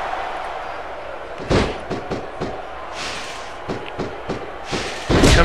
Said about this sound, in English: Oh, he knocks him to the floor.